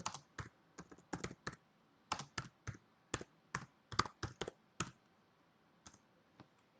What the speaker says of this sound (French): Je vais donc directement ici taper dans mon contenu